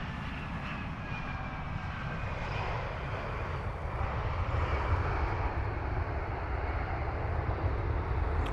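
An airplane rolls in after landing at Dublin Airport, its engine roar a steady, broad rumble that holds loud and unbroken throughout, swelling slightly midway with no voices over it.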